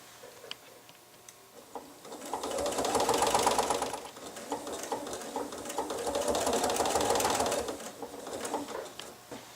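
A sewing machine stitches a row of decorative stitching in two loud, sustained whirring bursts separated by a short lull, with faint background bird cooing.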